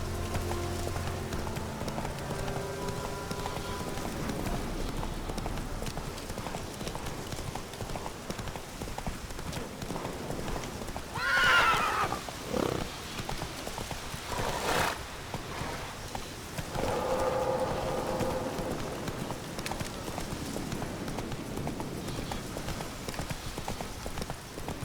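Hooves clip-clop in a steady rhythm from a horse in the Witcher 3 video game, joined by a brief whinny partway through, with a faint game score underneath.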